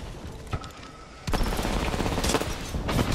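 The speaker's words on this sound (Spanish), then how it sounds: "Lanzando mi bomba de racimo." A cluster bomb launches in a combat flight video game, a sharp onset followed by a dense, sustained rattle of rapid explosive bursts, loud and close, with no talking over it.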